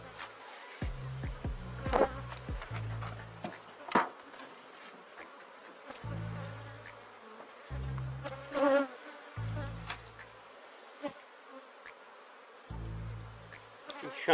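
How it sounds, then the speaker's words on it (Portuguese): Honeybee swarm buzzing steadily close by while a hive is split into a box and closed up, with intermittent low thumps and handling knocks of the hive box cutting through the drone. "Enxamezinho muito forte."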